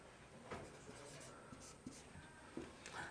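Soft scratching of handwriting on paper while a math problem is worked out, a quiet, irregular run of short strokes and taps.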